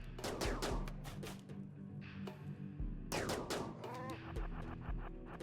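Gunfire breaks out during a raid in RimWorld: rapid bursts of sharp shots, some in quick automatic strings, in clusters separated by brief pauses, loud and close with no voices.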